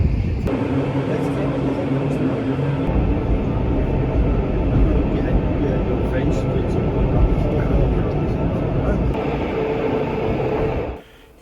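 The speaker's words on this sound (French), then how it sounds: "Notre train de 10h10 est composé de 3 rames qui se suivent à vue." Near and loud, the Pilatusbahn mountain railway train runs with a continuous low rumble and rattling wheel noise that fills the whole stretch, then fades out at the end.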